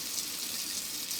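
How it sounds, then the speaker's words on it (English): Tap water runs in a steady, hissing stream over a kitchen knife being rinsed after cutting apple wedges, fairly soft and continuous, with no talking. "Just run some water."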